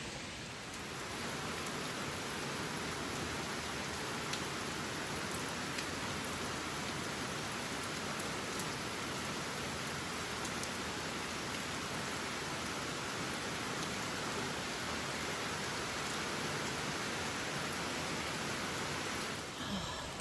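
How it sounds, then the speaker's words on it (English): Steady rain falls on the Appalachian Trail, a continuous dense hiss of drops on surfaces, even and unbroken throughout, moderately loud and close. "it's raining still. It rained all night long."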